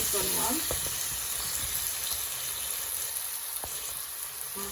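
Garlic masala frying in oil until the oil separates, for garlic rice; a soft, continuous sizzle with light bubbling and a few stirring clicks close by, no voices.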